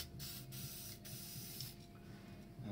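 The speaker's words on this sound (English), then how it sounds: "Take some more WD-40." WD-40 lubricant sprayed from an aerosol can during the rebuild of a Peugeot 308 SW 1.2 e-THP PureTech engine, several short hissing bursts close by over a steady low machine hum, with no talk.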